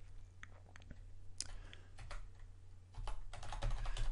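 Someone types a host address into FileZilla on a computer keyboard, giving a quiet patter of key clicks that grows denser and a little louder toward the end, over a low steady hum.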